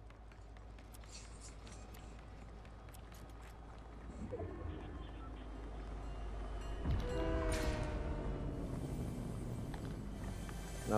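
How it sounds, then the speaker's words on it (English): A train approaches in a video game, with a low steady rumble that swells and a horn-like tone rising near the end, faint beneath the game's background sound. "Oh, there's a train coming."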